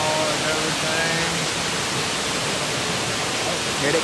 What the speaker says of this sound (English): The waterfall and everything.